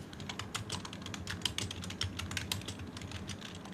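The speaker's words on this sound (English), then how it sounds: "Who's typing like a madman?" Rapid, busy typing on a computer keyboard picked up by a microphone, a steady stream of close, sharp key clacks with no one speaking.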